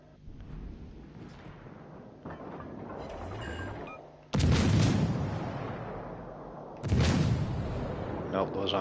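Two heavy booming blasts of naval gunfire ring out in a game, each followed by a rumbling tail, with quieter mechanical noise before.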